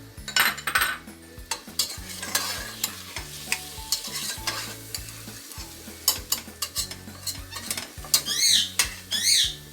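Bitter gourd and onion being stir-fried in a pan, continuous sizzling with frequent scraping and clinking of a spatula against the metal, rhythmic stirring strokes throughout.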